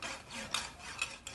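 A cake saw drawn back and forth across the top of a vanilla cake makes soft, close rasping strokes, faint and rhythmic, with a few slightly louder scrapes as the blade changes direction.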